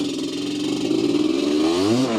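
An old race quad that sat unused for ten years revs hard at full throttle, a loud buzzing engine note climbing steadily in pitch through a long gear.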